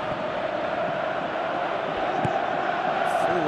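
Simulated football stadium crowd in the video game PES 17, a steady, dense roar of distant fans with faint chanting swells, continuous and even throughout.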